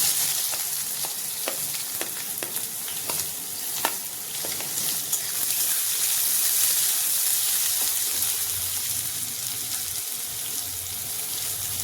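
Whole cardamom, bay leaf and chopped onion frying in hot oil for rajma, a steady close sizzle with scattered sharp clicks and pops early on, carrying on alone with no talk.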